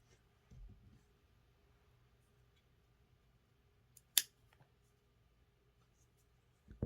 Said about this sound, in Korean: 실을 매듭 짚고 실을 잘라 줄게요